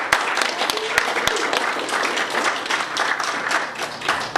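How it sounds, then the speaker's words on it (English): An outdoor crowd at a ceremony hosted at an orchard applauding, steady clapping with a few sharp close claps standing out, sustained for several seconds at moderate loudness. "please, a big round of applause for John Shemp and Troop 9."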